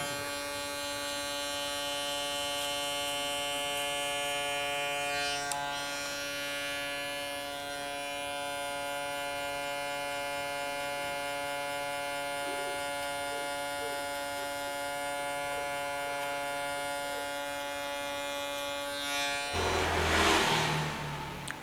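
Electric hair clipper buzzing steadily for about twenty seconds while detailing a haircut with the tip of the blade in a barbershop, close and continuous, ending in a brief burst of noise.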